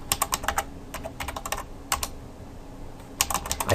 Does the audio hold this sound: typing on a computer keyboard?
yes